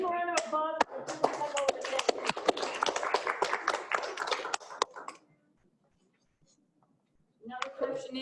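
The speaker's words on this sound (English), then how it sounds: "So give him a round of applause." Conference audience applauding a speaker at a Go programming talk, a dense burst of clapping lasting about five seconds, then silence before a voice resumes.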